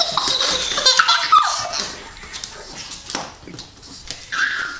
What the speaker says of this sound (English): There's a trending video of a pug, and you know, dogs like to play tug of war.